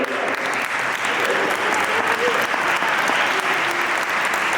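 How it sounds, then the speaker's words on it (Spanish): A church parish audience applauds a woman introduced at a gathering, a dense, loud and steady burst of many hands clapping that continues throughout. "un aplauso para ella"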